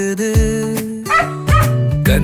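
A puppy yips and barks in short bursts over a bright, melodic children's song.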